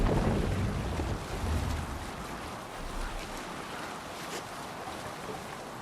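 A sailing ship at sea in Assassin's Creed Valhalla, with a steady rush of wind and waves washing against the hull, louder at first and then settling into a continuous even roar, with no voices.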